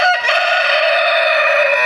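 A mean rooster crows loudly and close by, one long sustained cock-a-doodle-doo filling the short moment on its own.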